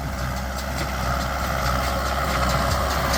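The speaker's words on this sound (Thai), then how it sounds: "ใช้รถไถกูเบต้าครับ M 6040" Steady idle of a Kubota M6040 farm tractor engine, a continuous low, even rumble held at constant loudness throughout, heard alone without voices, near the machine used for baling straw.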